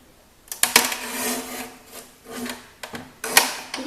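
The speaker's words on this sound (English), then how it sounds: "let me show you what happens if you bring the lever down slowly" A Tonic Studios guillotine paper cutter lever pulled slowly down through paper, giving a drawn-out dry scraping rasp in several uneven bursts separated by brief pauses, close and moderately loud.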